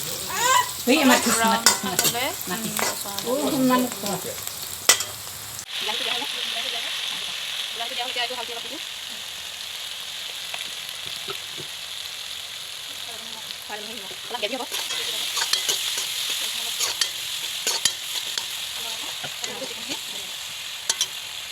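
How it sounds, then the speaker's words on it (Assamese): Onions fry with a steady sizzle and occasional stirring scrapes in a pan while garlic-ginger paste goes into a meat curry; a voice talks briefly at the start over the frying. "অলপ পিঁয়াজটো কালাৰ আহিব লাগিব"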